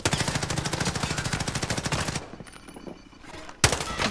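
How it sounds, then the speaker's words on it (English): Rapid automatic gunfire rattles close and loud in Call of Duty Warzone on Rebirth Island, a sustained burst lasting about two seconds, then a quieter pause and a second sharp burst. "Stop shooting at me."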